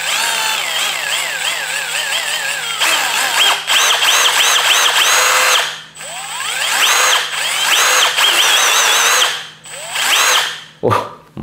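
A Milwaukee M12 Fuel Gen 3 brushless 12V impact driver is run free in repeated bursts, its whine rising and falling with trigger pressure, loud and close, with brief pauses between pulls.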